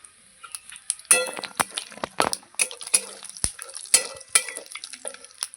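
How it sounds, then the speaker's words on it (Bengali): Dry red chili, bay leaf, cinnamon, clove and cardamom temper in hot oil, a soft sizzle under sharp clanks and scrapes of a stirring spoon against the pan, close and lively. "একটা শুকনো লঙ্কা ফোড়ন দেব একটা তেজপাতা দিয়ে দেবো"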